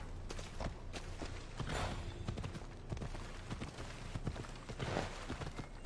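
Horse hooves clip-clop in Assassin's Creed Odyssey, a steady run of close footfalls over a dense game soundscape with no talking.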